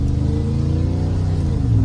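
A 1993 Chevrolet 1500 Silverado pickup truck engine pulling under acceleration, a loud, steady low rumble with rising harmonic tones that carries through the whole stretch with no voices over it.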